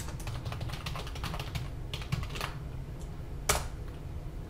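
Rapid keystrokes on a computer keyboard at a Linux terminal, clicking in quick uneven bursts close to the mic over a steady background hum, with one sharper key strike near the end and no talk.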